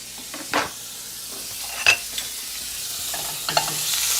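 Butter goes into a pan of already warm olive oil and gives off a soft, steady sizzle. A few sharp clinks and scrapes of stirring rise above it, and no one speaks.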